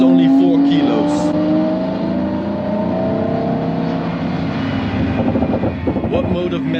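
Pagani Huayra Codalunga with a ceramic-coated titanium exhaust, its engine droning loud and close with rising and falling pitch, heard from inside the car while people talk over it.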